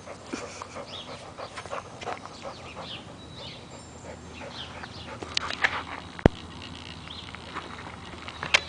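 A dog pants steadily after chasing a tennis ball outdoors, with quick close breaths, faint bird calls and a few sharp clicks in the background.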